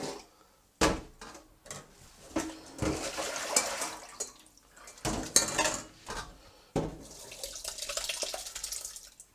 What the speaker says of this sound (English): I'm just going to fill that up with cold water, giving it a stir, and then just start to drain that water away.